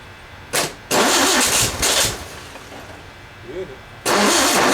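A 1967 VW ragtop engine is cranked in several short, loud bursts with pauses between, and a voice murmurs in the gaps before a final sustained crank at the end.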